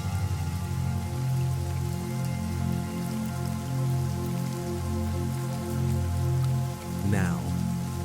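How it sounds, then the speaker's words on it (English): Steady rain falls on surfaces in a continuous soft patter and hiss, even and unbroken throughout, with a brief higher rustle near the end. "accompanied by the soothing sound of rain"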